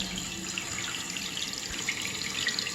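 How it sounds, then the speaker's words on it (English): Water streams steadily from the refill tube into a toilet tank, a continuous close hiss and splash with no voices. "See the water coming out of that refill tube right there."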